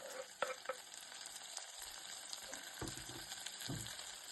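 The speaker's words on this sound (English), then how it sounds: "So I'm taking some oil in a pan and I'll add onion in it." Onion and tomato frying in oil in a pan, a soft steady sizzle with a few spoon scrapes and light knocks, close and fairly quiet.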